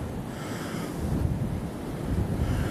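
Strong wind gusting up to about 30 mph roars and buffets against the microphone outdoors at night during gun season, a loud, steady rush with no voices.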